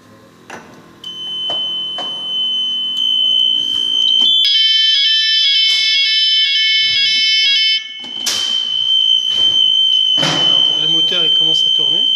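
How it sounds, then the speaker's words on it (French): A general fire alarm from a building fire safety system sounds as a loud, sustained electronic tone with pulsing beeps, preceded by clicks and followed by motor and shutter noises, with people talking nearby. "On va déclencher l'alarme"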